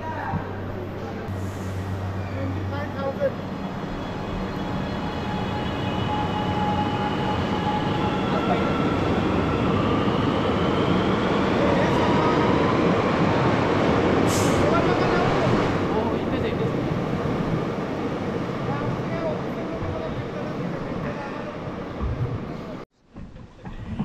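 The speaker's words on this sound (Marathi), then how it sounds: "आम्ही जे ट्रेनमध्ये बसलो आहे ती एक कंप्लीट AC ट्रेन असणार आहे" A steady, loud rumble and whoosh of an underground air-conditioned metro train in motion in Mumbai, heard from inside the carriage, continuing throughout before briefly cutting out near the end.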